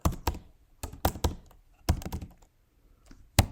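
Someone types on a computer keyboard while entering Mathematica commands, with short bursts of crisp, close keystrokes separated by brief pauses.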